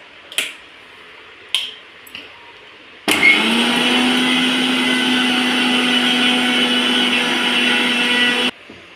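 A few sharp knocks and clicks come first, then a mixer grinder roars up, grinding homemade kumkum ingredients with lime and turmeric in a loud, steady whir for about five seconds before stopping abruptly.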